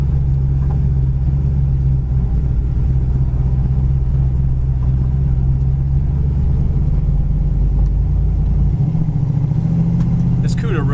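A 1970 Plymouth Cuda sits running, its engine giving a deep, steady low rumble at idle that shifts slightly in pitch near the end, close by and continuous throughout.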